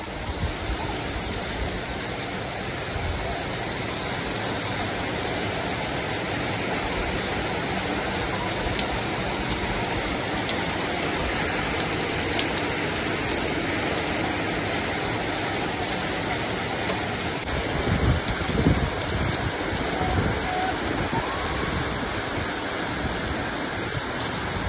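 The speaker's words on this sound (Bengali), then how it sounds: "বাইরে টেরিফিক বৃষ্টি হচ্ছে।" Heavy rain pours down on a balcony, a dense, loud, steady roar of falling water with spattering drops that grows slightly rougher and closer toward the end, with no voices.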